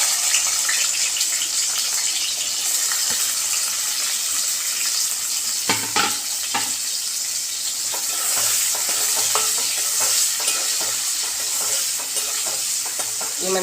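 Onion pieces fry in oil with cumin in a steady, loud, close sizzle, with occasional scraping clicks from stirring in the pan and no one talking.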